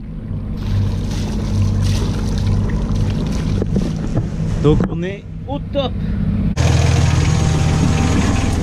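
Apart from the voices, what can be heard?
Yanmar 3YM30 marine engine running, exhaust spitting water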